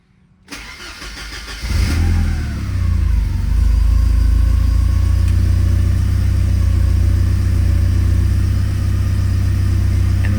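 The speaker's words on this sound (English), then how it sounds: "Let's fire it up and see if there's any vibration when I turn the wheel." Porsche 944 Turbo engine cranks and catches after a short click, revs briefly and then settles into a steady, deep idle that runs on loud and close with no talking.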